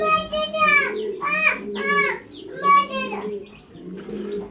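Fancy pigeons, including a German Beauty, coo in repeated throaty phrases close by, each call rising and rolling in a steady rhythm with short pauses between.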